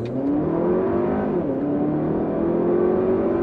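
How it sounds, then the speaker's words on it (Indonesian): A Porsche, the entry-level variant, accelerating hard in a launch control test, its engine note climbing steadily, dipping briefly at a gear change, then rising again, loud and close with no talk. "hal pertama yang akan kita lakukan adalah tes launch control dari mobil ini"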